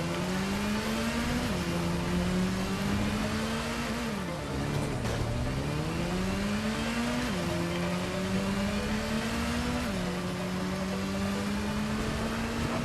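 Motorcycle engine in the video game Gotham Knights, a continuous whining drone with pitch repeatedly rising, dipping and climbing again as the bike accelerates and shifts, steady and fairly close.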